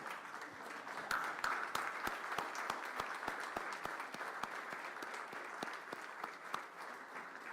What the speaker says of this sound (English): I think we all stand up and give a round of applause for Koshi rather than for me